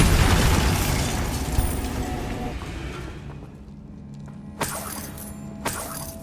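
Bombarda spell explosion in Hogwarts Legacy, a loud opening blast that rolls off into a fading rumble, followed by two sharper smaller impacts near the end.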